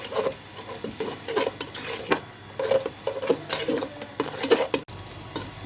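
Egg being scrambled in a hot pan with fried onions: repeated scraping stir strokes of a utensil against the pan in an uneven rhythm over a soft sizzle, close and fairly loud, no voices.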